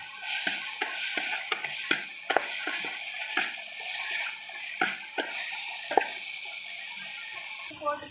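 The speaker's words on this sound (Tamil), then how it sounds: "இந்த அளவுக்கு நல்லா வதக்கிக்கிறணும்." A spoon scrapes and taps through tomatoes, asafoetida and turmeric sautéing in a pan for chicken curry, with a soft sizzle beneath a series of close, sharp stirring strokes spread unevenly across the whole stretch.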